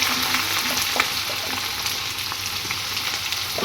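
Panch phoron and ginger sizzle and crackle steadily in hot oil for a Bengali moong dal khichuri, a close, continuous fry with occasional sharper pops.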